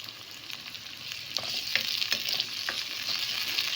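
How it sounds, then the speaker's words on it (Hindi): Four or five tomatoes and two green chillies fry in a pan with a loud, continuous bright sizzle and occasional stirring scrapes, close and steady with no talking. "ये 4 से 5 टमाटर डाल के और 2 हरी मिर्चें डाल के जब तक हमारे टमाटर सॉफ्ट होंगे हम इनको जो है मिक्स करेंगे"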